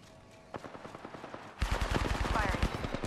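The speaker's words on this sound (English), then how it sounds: "Firing. Reloading. Throwing thermite grenade." Gunfire in the Apex Legends video game: a few spaced single shots, then a dense rapid automatic burst with a metallic ringing tail, fairly close over quiet game ambience.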